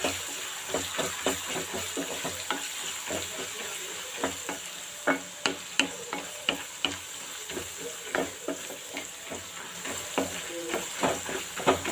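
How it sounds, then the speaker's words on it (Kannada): Garlic fries in a pan for a Kannada-style oggarane churumuri, with a steady sizzle and a ladle scraping and stirring in repeated clicks throughout, close and moderately loud, with no talking. "ಸೊ ನಾವು ಇದನ್ನು ಸ್ವಲ್ಪ ಬೆಳ್ಳುಳ್ಳಿನ ಫ್ರೈ ಮಾಡ್ಕೊಳ್ಳೋಣ ಇದರಲ್ಲಿ"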